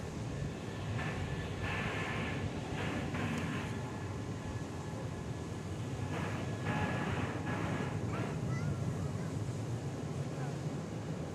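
An airliner approaching to land on the east side of DFW airport gives a distant, steady low roar that holds throughout. A voice talks intermittently over it.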